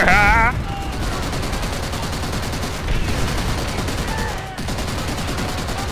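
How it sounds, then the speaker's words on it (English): In World at War, an anti-aircraft gun fires in loud, rapid, continuous bursts with a few brief pauses, set against a battle din of other gunfire. "Use this fucking anti-aircraft gun against them."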